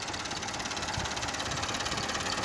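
A tractor engine idles steadily in a field while preparing land for sowing wheat, a continuous close mechanical rumble with a faint knocking rhythm and no talking.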